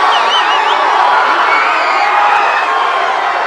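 Loud crowd of Flamengo supporters cheering, whooping and shouting as the team arrives, a dense continuous roar with a whistle-like call rising above it early on.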